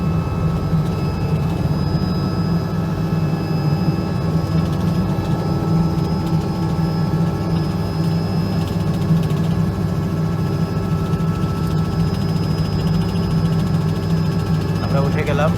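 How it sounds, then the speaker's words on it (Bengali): A helicopter lifts off from the ground, its engine and rotor a loud, steady low drone that fills the whole stretch with no pauses. "এই যে উঠাটা নিচ থেকে মাটির থেকে একটু ক্রিটিক্যাল, সেই জন্য এটা খুব সাবধানে উঠতে হয় হেলিকপ্টারের এই অংশটা।"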